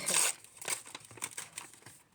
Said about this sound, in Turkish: Paketimizi açıyoruz.